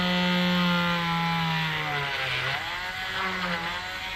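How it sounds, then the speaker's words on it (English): A small drill bores holes into UV resin coated shrink plastic charms, giving a continuous whining buzz that dips in pitch as it bites into the plastic, close and alone without talk. "and then I just drill them."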